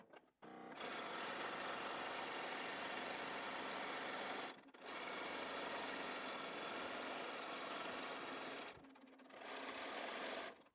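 A sewing machine runs stitching fleece and fabric together for a Santa hat, a steady rapid whirring hum in three bursts separated by short pauses, close and alone.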